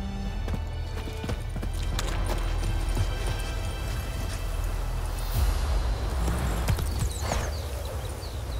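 Horse hooves in The Witcher video game beat in a steady clip-clop rhythm under a constant low rumble of ambient game noise, loud and close throughout.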